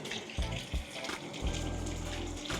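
Hot natural mineral spring water pouring from a public tap in Sofia, Bulgaria, a steady splashing gush running throughout, fairly soft, with a few louder splashes early on.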